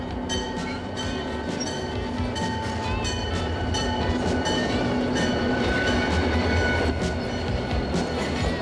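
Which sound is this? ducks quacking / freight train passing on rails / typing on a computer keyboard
freight train passing on rails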